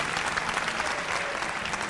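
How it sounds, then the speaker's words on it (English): Steady crowd applause at a talk radio fest for host George Noory, a dense, even patter of many hands clapping throughout the brief moment. "Big round of applause for Mr. George Noory, please."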